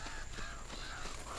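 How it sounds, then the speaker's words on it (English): Crows caw in the Uncharted video game, a loud, dense stretch of harsh overlapping calls over a constant noisy ambience. "That's a lot of birds."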